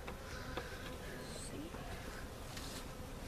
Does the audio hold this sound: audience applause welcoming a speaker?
no